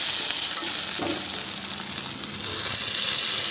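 Spice paste hits hot oil with fried potatoes and onions, giving a loud continuous sizzle and hiss with faint stirring scrapes, no voices.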